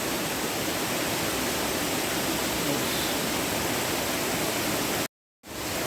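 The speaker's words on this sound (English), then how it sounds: "There's a big waterfall." Steady, dense roar of a big waterfall in outback Queensland, loud and unbroken, briefly cutting out near the end before returning.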